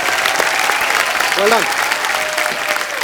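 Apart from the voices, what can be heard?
studio audience applause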